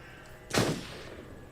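A single gunshot in the video game Until Dawn, one sharp burst with a short decaying tail, moderately loud against quiet background hum.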